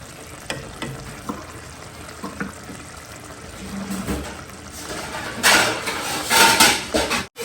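Kitchen clatter and soft sizzling of mustard greens and chil leaves, then a louder rush of water poured into the hot pan near the end, hissing briefly.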